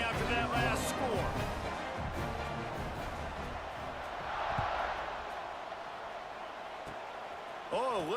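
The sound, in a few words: stadium crowd buzzing in a college football video game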